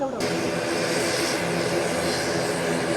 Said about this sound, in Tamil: இண்டிகோ விமானம் வந்து லேண்டிங் ஆனது பாருங்க